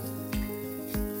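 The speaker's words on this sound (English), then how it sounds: "frying my sausages with sesame oil that I have here ready" Sausages fry in sesame oil with a soft, quiet sizzle and two short clicks or clatters, like utensils moving in the pan.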